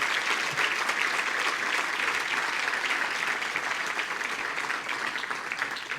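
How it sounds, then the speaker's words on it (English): An audience applauds at an awards ceremony, a dense, sustained wash of clapping from many hands that stays loud throughout and tapers slightly toward the end. "How about another round of applause?"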